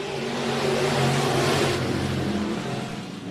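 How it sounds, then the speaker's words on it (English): Northern Sport Mod race cars roar loudly past on an oval track at the start of a heat race, engines revving hard and blending into a broad, sustained engine roar. "First heat race for the Northern Sport Mods, 8 laps, 6 cars coming around. And the green is flying."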